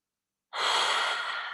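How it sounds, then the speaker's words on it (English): A deep breath taken together by a group at the close of a positive-psychology resilience talk: after silence, a single soft, breathy inhalation begins abruptly and holds steady, unaccompanied by talking. "And now let's take one deep breath all together."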